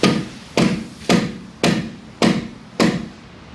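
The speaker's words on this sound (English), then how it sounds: "So I'm going to continue with the back of the hammer." The back of a hammer strikes the steering knuckle on a Ford EcoSport during front hub bearing removal, six sharp metallic blows at an even rhythm of about one every half second, loud and close.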